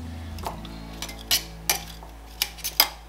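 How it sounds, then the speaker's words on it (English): Broccoli tossed with olive oil in a bowl: a few soft clinks and scrapes of a utensil against the bowl, sparse and close, with quiet gaps between. "You just kind of coat it slightly with olive oil."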